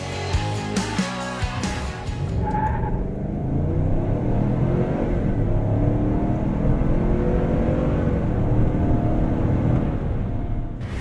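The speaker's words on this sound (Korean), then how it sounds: "V8 가솔린 직분사 엔진이 풀악셀을 했을 때 내는 소리가 어떤지 되게 궁금하실" A Chevrolet Tahoe High Country's 426-horsepower V8 gasoline direct-injection engine is taken to full throttle. After a brief scuffle of other noise, it settles into a deep, steady, breathy roar that stays loud and close.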